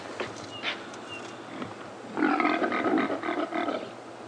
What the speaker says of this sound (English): But in fact, it was just the humble impala who were rutting, of course